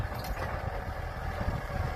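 A tractor engine runs in a rice field in Maha Sarakham, Thailand, a steady low rumbling drone heard throughout, fairly close and without talking.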